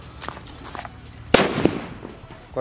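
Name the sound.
atom bomb firecracker exploding inside a hole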